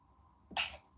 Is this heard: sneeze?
yes